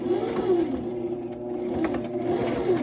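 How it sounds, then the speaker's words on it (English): A sewing machine stitches off the edge of a paper page embellishment in a steady, close whirring run of rapid needle strokes, with no pauses. "I want to sew right off the edges."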